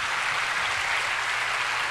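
A Spanish-speaking church congregation claps loudly for the Lord during a sermon, a brief burst of dense, even applause filling the space without speech.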